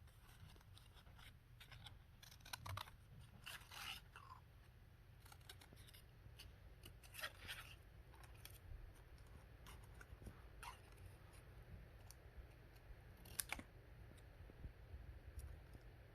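Scissors snip out a paper bookmark piece in a quiet room, producing repeated short, faint cuts spread irregularly over a steady low background hum.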